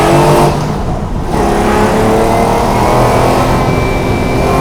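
A V12 Jaguar XJS engine pulls hard and loud from the driver's seat, its note rising steadily as the car accelerates, a continuous close roar with no voices.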